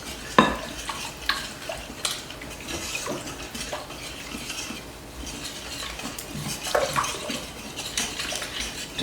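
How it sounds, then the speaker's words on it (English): Sourdough tortilla ingredients being mixed in a bowl with a dough whisk: wet scraping and stirring strokes with occasional clinks, moderately close, irregular rhythm and no talk. "So I'm just going to mix those 3 things up with my dough whisk."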